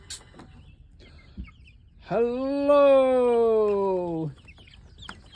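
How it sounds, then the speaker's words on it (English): A chicken gives a drawn-out, loud call near the middle, with a few faint clucks and small sounds around it, and a person briefly speaks. "Uh-oh, here comes the chickens."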